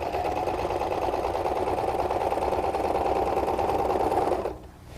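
A sewing machine stitches drapery fabric in a steady, even mechanical whir that runs close and continuous before abruptly stopping near the end.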